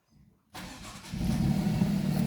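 An Alfa Romeo car engine starts from silence with a push-button starter, a brief crank catching into a loud, steady low rumble that swells after a second.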